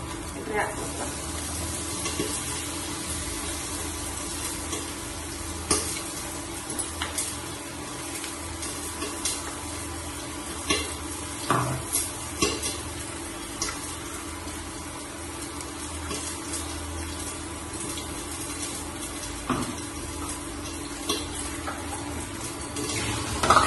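Tomato, cashew, char magaz seeds, Amul and paneer masala being mixed in a pan at home, giving a steady soft sizzle and stirring scrape with occasional clinks, under intermittent talking.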